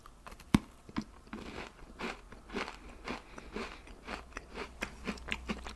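Hard, crunchy cinnamon cookies with icing being bitten and chewed up close, with a sharp first crunch followed by a steady series of crackling, crisp chews and no talking.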